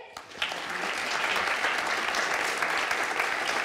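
Audience applause at a French talk event fills the room steadily from start to finish, dense and sustained, with no speech on top.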